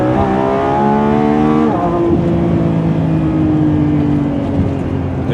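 A Lamborghini Revuelto's engine accelerates hard, its loud, rising howl climbing through the revs, then dropping at a gear change and pulling upward again, with steady road roar beneath.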